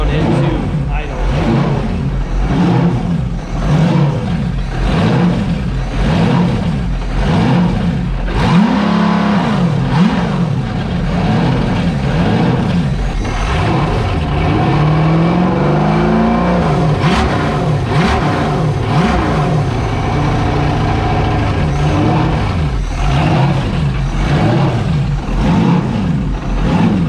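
A V8 jetski engine running on a hose, revving up and falling back repeatedly in a surging, wavering rhythm, then settling into an uneven idle, loud and close the whole time.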